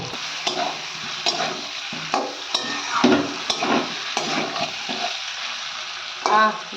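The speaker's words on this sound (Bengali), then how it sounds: "তোর মধ্যে আমি আলুগুলো দিয়ে আর একটু কষিয়ে নেবো ভালো করে" Potatoes stir-fried in spiced oil, a loud close sizzle broken by repeated spatula scrapes and tosses in an irregular rhythm, with one sharper burst of frying near the end.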